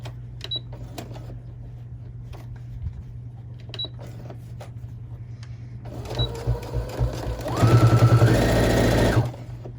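Sewing machine stitching the boxed corner of a tote bag, quiet handling clicks and a low hum at first, then a loud burst of rapid mechanical needle whirring near the end before stopping.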